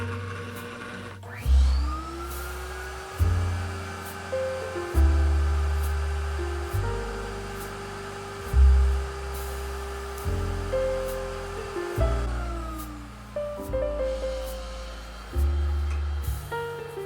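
A MoFi record cleaning machine runs its vacuum over a vinyl record, making a sustained whining drone with repeated surging pulses as the record turns, and a pitch that rises and falls.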